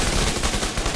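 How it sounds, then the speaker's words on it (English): Rapid automatic turret fire in the shooter video game The Division 2, a dense, loud, continuous stream of shots blending into a sustained roar for about a second. "So now we've got the turret going."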